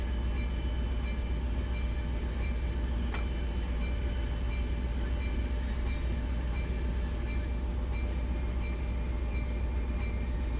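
A Caltrain train on the Peninsula Corridor in Train Sim World 2020 runs with a steady, loud low rumble and continuous mechanical drone, faint periodic clicks, and no voices.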